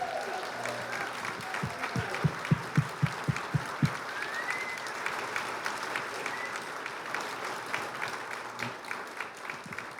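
An audience claps in a burst of applause, dense and steady across the room, with a few louder close claps early on and a speaking voice partly over it.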